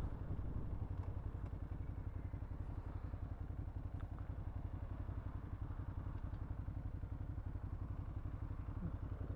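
A 2013 Ducati Hyperstrada motorcycle engine with stock exhaust idles with a steady, low, chugging thrum, close and continuous, with faint clatter on top and no voices.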